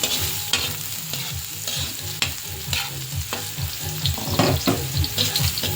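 Chicken franks fry in a pan as a crunchy topping for tuna carbonara: a steady close sizzle broken by regular scraping stir strokes, with no talking.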